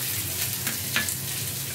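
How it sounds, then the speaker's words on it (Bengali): Sliced ridge gourd sizzles in hot oil in a pan, a steady close frying hiss with a couple of brief stirring crackles over a low background hum. "কেটে রাখা ঝিঙেগুলো তেলের মধ্যে দিয়ে দেবে। ঝিঙেটাও তেলের মধ্যে দিয়ে দেওয়া হলো।"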